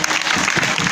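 Applause fills the whole moment, loud and dense, during a devotional kirtan-style talk.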